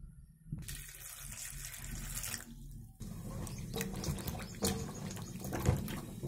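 Water runs steadily from a tap with splashing as taro root is rinsed underneath, close and fairly loud, with a brief pause midway.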